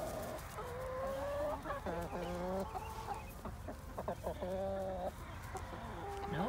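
Farm chickens cluck and squawk close by in a busy, continuous stream of calls with rising and falling notes, heard without talk.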